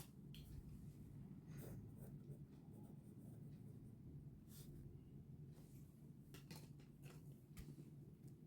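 A pen moving on paper while working out a parallel-lines geometry proof, soft scratching strokes in short bursts over a steady low background hum, faint and close.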